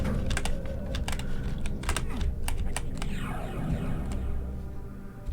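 Rapid clicking of a computer keyboard in irregular bursts, loud and close, set over a dense background of spooky game music and ambience.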